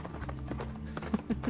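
Horse hooves clip-clop in a steady, moderately quiet rhythm as the animal keeps moving through open countryside in a horse riding video game, with a faint soft murmur in the background.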